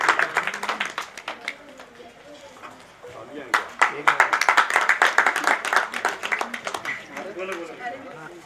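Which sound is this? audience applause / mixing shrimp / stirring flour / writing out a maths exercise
audience applause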